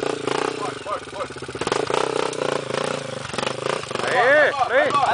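A Honda CRS dirt bike revs and accelerates hard on a trail in Santa Maria, engine roaring up and rising in pitch toward the end, mixed with excited shouting from people nearby.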